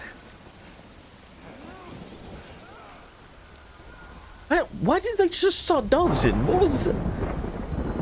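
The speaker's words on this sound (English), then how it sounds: "Oh shit! It's raining. Run." Rumbling thunder and rain in the video game Death Stranding swell up midway and stay loud, with a voice talking over the storm throughout.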